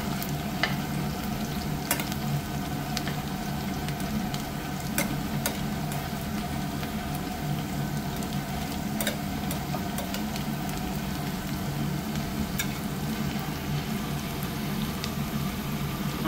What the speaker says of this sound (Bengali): কড়াইটা গরম আছে না, গরমের লেগে ভাজাটা জলদি হয়ে যায়।